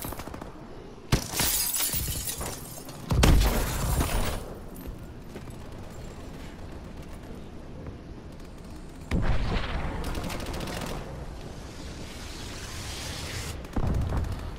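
Gunfire and explosions in the Call of Duty: Advanced Warfare video game, loud bursts of shots and blasts in separate clusters, with quieter stretches of game ambience between them.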